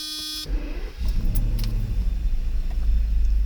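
A Mercedes V12 car engine cranks and catches after a brief warning chime, then settles into a loud, steady low idle rumble close by.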